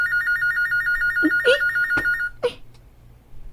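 A telephone rings with a warbling electronic trill that repeats steadily for about two seconds before cutting off, followed by a few soft knocks and faint room noise.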